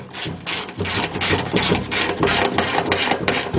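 A hand ratchet tightens the fuel pump retaining bolts on a 2001 Ford Explorer 4.0, giving a steady run of close, repeated clicking strokes in quick rhythm with no talk.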